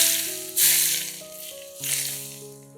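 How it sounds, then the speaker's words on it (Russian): Hot oil poured over grated carrot with seasonings gives two short, bright bursts of sizzling hiss, each fading quickly, while melodic background music plays throughout. "Горячее масло выливаем на тертую морковь с приправами"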